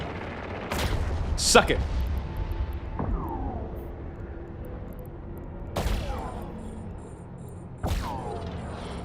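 Ship weapons firing in the space game Eve Online: a few loud, separate blasts with short decaying tails spread over several seconds, mixed with lower mechanical rumble; someone speaks briefly.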